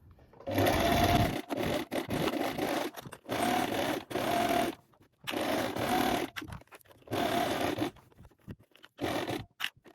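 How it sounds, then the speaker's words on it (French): A sewing machine backstitching a dress seam runs in close, loud bursts of rapid stitching, separated by short stops as it reverses direction to reinforce the seam. "Et je vais faire un point avant-arrière pour renforcer évidemment la couture."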